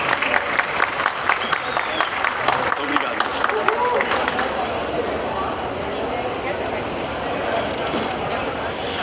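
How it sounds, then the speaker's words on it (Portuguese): Audience applause for a state deputy at a legislative assembly panel at a conference stand, scattered clapping with sharp, rhythmic claps at first that thin into a rougher crowd wash, with voices and background chatter mixed in. "Uma salva de palmas, deputado Marquito."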